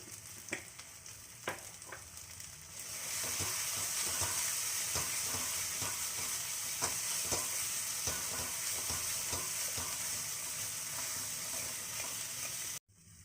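Onion masala for a raw jackfruit curry frying in oil while being stirred, a few scattered clicks first, then a sudden, loud, constant sizzle under steady stirring that stops sharply at the end.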